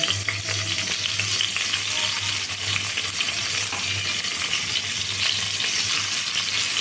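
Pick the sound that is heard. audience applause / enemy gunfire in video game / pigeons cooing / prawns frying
prawns frying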